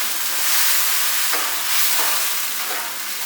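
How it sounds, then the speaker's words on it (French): Sugar and vinegar sauce for General Tao chicken boiling in a pan, a steady loud sizzling hiss with faint bubbling pops, no talk. "on va laisser bouillir jusqu'à temps que le sucre soit bien dissous"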